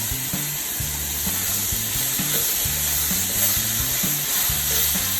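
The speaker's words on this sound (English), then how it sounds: "And now we're gonna add in our peppers." Onions and peppers fry in a pan for a Cajun jambalaya pasta, making a loud continuous close sizzle with no speech, while music plays in the background.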